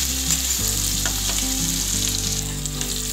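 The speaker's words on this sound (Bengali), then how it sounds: "দিয়ে দেব রসুন বাটা, দিয়ে ভালো করে নাড়িয়ে চাড়িয়ে নেব" Garlic paste frying in a pan and being stirred, a steady dense sizzle that holds loud and even throughout, with soft scraping strokes of the spoon and a low hum underneath.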